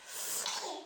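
A single sharp, breathy sneeze bursts out close to the microphone, rising and fading within about a second.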